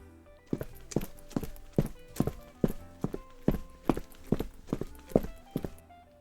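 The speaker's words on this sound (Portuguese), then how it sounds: "Mais uma vez, botas se aproximavam." Boots strike a hard floor in steady, heavy footsteps, a dozen or so evenly spaced thuds drawing nearer, played as a sound effect in an audiobook and heard alone.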